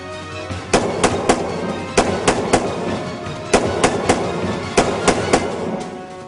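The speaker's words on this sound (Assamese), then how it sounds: "শূন্যলৈ বুলি তেওঁলোকে এৰিছে ধাৰাসাৰ গুলী" Burst of gunfire from automatic weapons fired into the air by NDFB militant cadres in Assam, heard as repeated sharp reports in uneven clusters of two and three, fairly loud against a steady background, with no talk.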